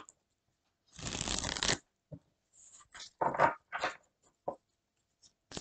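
Tarot cards are shuffled up close, a quick riffling burst followed by several shorter soft card flicks and taps, quiet and isolated in a still room without speech.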